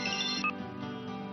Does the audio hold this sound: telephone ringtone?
yes